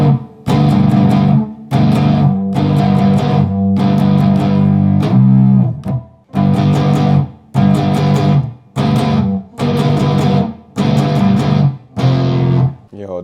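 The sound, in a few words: distorted guitar strum through amp plugin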